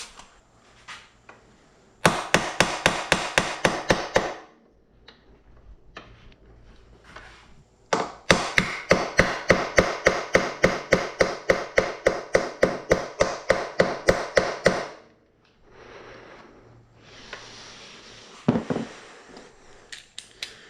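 Rapid bursts of sharp metallic hammer strikes on a bolt of a Can-Am Outlander 650 XMR, two long rattling runs of quick blows separated by pauses, then a few scattered knocks.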